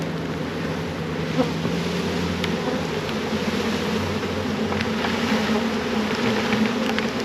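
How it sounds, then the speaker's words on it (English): A steady, dense buzzing hum of a honeybee swarm held in a bucket continues throughout, close and even, with occasional faint knocks and no talking. "That's a heavy bucket of bees."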